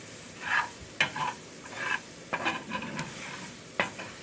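Onions cooking on low heat in a chicken and sausage gumbo pot are stirred, giving a soft sizzle broken by several scraping stir strokes at an irregular pace, close and fairly quiet.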